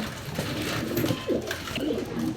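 Male pigeon cooing loudly and close, a series of low throaty rolling coos repeated in quick succession over a faint background murmur.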